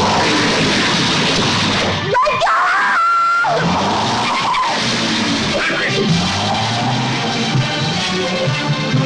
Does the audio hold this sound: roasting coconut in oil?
no